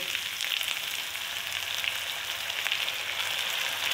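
Garlic-ginger paste and tomato sizzle steadily in hot oil for a besan and egg salan, a loud, even frying hiss that runs without pause and with no voices.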